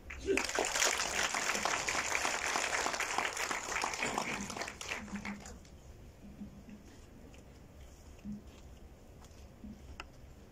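Applause from an audience at a premiere, greeting a provincial superior of the Sisters of Perpetual Help coming up to give a welcome speech, is steady and full for about five seconds, then dies away to scattered claps and room noise.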